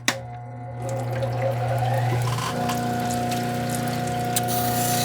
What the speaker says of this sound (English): Get some water going on here.